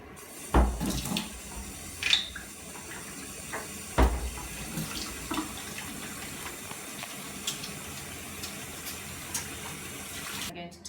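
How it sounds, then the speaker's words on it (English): Running tap water pours steadily into a kitchen sink while hands are washed before making blueberry flapjacks, with a few knocks and splashes near the start and a continuous hiss throughout. "The first thing I'm going to do is wash my hands."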